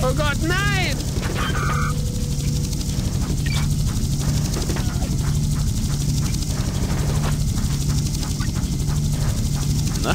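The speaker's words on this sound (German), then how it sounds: "Also das ist der Hubschrauber." A helicopter in the video game Just Cause keeps up a steady rotor drone amid gunfire and explosions, while someone speaks German over the action.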